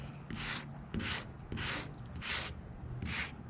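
Rhythmic rasping strokes of sandpaper worked over dried Flex Seal rubber coating on the dash of a 1970 Datsun 521 truck, five steady back-and-forth passes, close and fairly loud with no talking.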